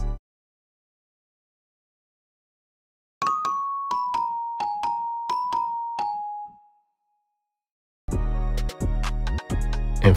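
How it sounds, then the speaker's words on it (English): A bright celesta in GarageBand on iOS plays a short run of bell-like notes in a descending melody, ringing out alone before a loud, dense rock beat passage cuts in. "I added in this celesta, basically some bells."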